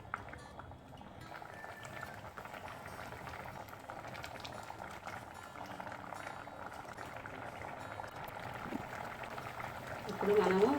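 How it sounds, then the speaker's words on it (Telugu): Wheat rava halwa simmers in a pan with a steady, soft bubbling that runs evenly throughout, growing a little louder near the end, with a voice talking faintly underneath. "దీన్ని మంచిగా ఉడకనివ్వాలి. ఇది సిమ్ముల్నే ఉడకనివ్వండి"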